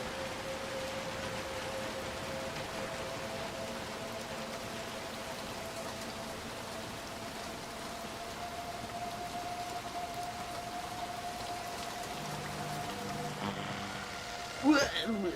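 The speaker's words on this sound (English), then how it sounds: "we'll be out of the rain soon enough" Steady rain falls in the video game Little Nightmares 2, a soft continuous hiss with a low hum beneath, ending in a sharp knock near the close.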